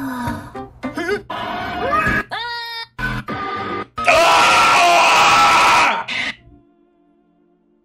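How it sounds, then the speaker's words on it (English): Several people scream, shriek and yell in short loud bursts, with groaning voices between and a long dense burst of overlapping screams near the end before it cuts to quiet. "People screaming."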